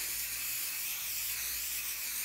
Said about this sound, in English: I'm going to add some spray just lightly